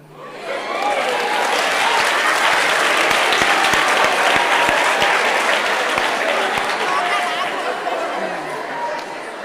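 A lecture audience at a memorial public lecture bursts into loud, sustained clapping mixed with chatter and some laughter, which swells and then slowly fades.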